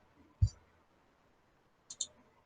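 A computer mouse gives a single soft click, then a quick double click a moment later, faint and close against a quiet room.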